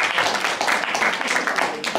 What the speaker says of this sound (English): Can we clap now?